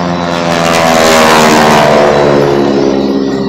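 A Boeing Stearman biplane's radial engine roars loud and steady during an air show pass over the runway, its pitch sliding slightly as it goes by.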